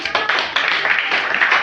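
A church congregation claps for Jesus in a brief burst of dense crowd applause.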